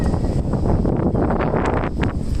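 Strong wind rushes across a microphone on a Tokyo street in the late afternoon, producing a constant heavy roar with slight gusting swells throughout.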